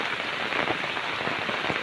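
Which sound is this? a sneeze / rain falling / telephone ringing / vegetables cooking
rain falling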